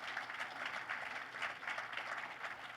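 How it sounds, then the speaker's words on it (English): Audience applause at a university opening ceremony: a steady, dense wash of many hands clapping, moderately distant and even in level throughout, with no speech over it. "let's give them a round of applause also."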